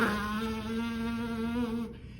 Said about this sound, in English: see if you can't buzz your lips